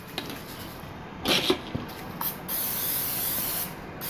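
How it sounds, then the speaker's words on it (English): Cooking spray hisses from an aerosol can as a cake pan is greased, a few short bursts followed by one long steady spray, close and fairly quiet, with no talking. "Grease the pan."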